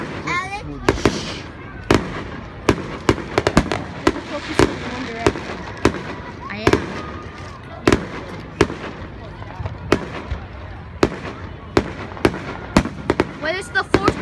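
Fourth of July fireworks burst in a rapid, irregular series of sharp cracks and bangs, some near and loud, others fainter, with crackling and smoky background noise between blasts.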